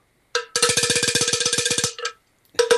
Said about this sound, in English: El Nino, can we hear a little bit of cowbell?